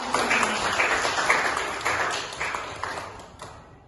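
A seminar audience at a student group presentation breaks into steady clapping that stays loud at first, then gradually thins and fades over a few seconds.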